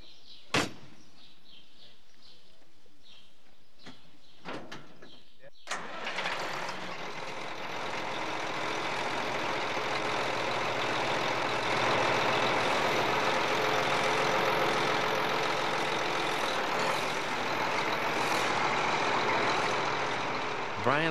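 A large John Deere farm machine's engine near Glencoe: a few clunks and a sharp knock, then a diesel engine starts and settles into a loud, steady roar that holds to the end.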